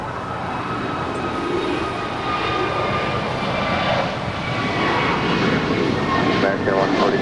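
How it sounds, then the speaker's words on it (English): A Boeing 767-300 jet that once flew for Thomas Cook Airlines at Los Angeles LAX, its engines giving a steady loud roar with whining high tones, with talk heard over it. "This particular 767-300 flew for Thomas Cook Airlines"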